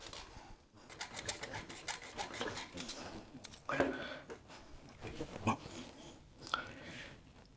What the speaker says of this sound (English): So here I am, just with a hacksaw. I'm going to try to see if I can just cut it.